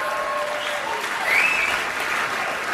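Steady, dense applause from a large audience at the 2020 Golden Globes awards ceremony, loud and continuous throughout with a slight swell in the middle and a faint voice briefly audible.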